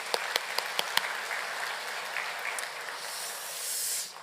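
A church congregation at a Sunday service applauds in praise of God, starting with a few distinct sharp claps that blend into a steady, fairly soft wash of applause before fading.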